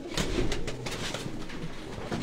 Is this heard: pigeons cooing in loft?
yes